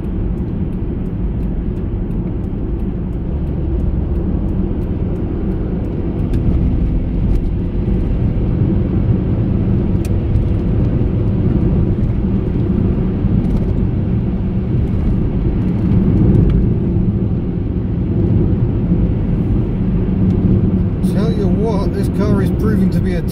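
A cheap £200 used car on budget tyres drives home, its engine and road noise a continuous, even drone heard from inside the cabin throughout.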